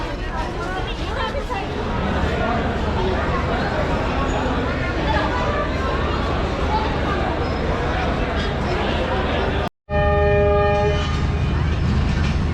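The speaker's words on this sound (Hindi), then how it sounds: "जी 18 डाउन मिलत एक्सप्रेस डिपार्ट कर रही है फैसलाबाद रेलवे स्टेशन से" Millat Express (18 Down) pulling out of Faisalabad railway station while its coaches are shunted, a steady rumble of rolling rail wagons with station ambience and people talking over it, a brief dropout, then a sustained horn tone near the end.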